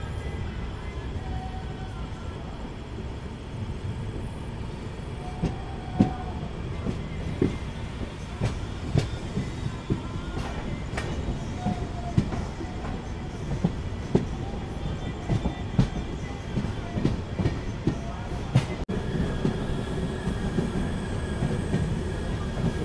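Mandovi Express pulling out of Sawantwadi Road station, with steady wheel rumble, rhythmic clickety-clack joints and occasional sharp squeals, heard close and loud throughout while voices talk faintly.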